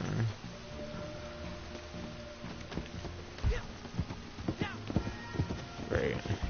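Horse hooves galloping in the Red Dead Online game, irregular clip-clop thuds mixed with game effects while someone talks over them.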